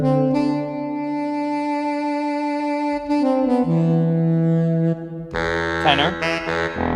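A soprano saxophone from a free software instrument plugin plays sustained reedy notes drenched in reverb, moving between a few pitches with a brighter melodic flourish near the end, clear and alone.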